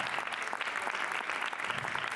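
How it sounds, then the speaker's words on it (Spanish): Audience at a historical reenactment presentation applauds in a steady, dense ripple of clapping from a moderately distant crowd. "Un fuertísimo aplauso para todos, que son la mejor recreación histórica."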